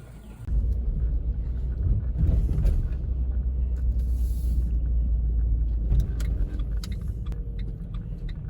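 A car's engine runs with a steady low rumble after it kicks in, holding a constant droning tone close by, with a few faint clicks and rustles over it.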